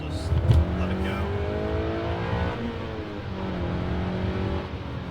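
A 2014 Honda Civic Si accelerating hard in second gear, engine note climbing steadily in pitch over several seconds, heard from inside the cabin at a sustained loud level.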